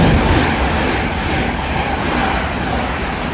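An IET passes a Heathrow Express service at West Ealing on the Great Western Main Line, giving a loud, steady broadband rumble and rush of rolling stock close by that holds for the whole stretch with no voices.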